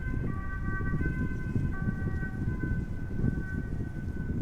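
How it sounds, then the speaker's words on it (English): A siren wails steadily at a distance from a road beside a runway at Amsterdam Schiphol Airport, its tones rising and falling over a constant low rumble of traffic or engines. "also hearing a siren."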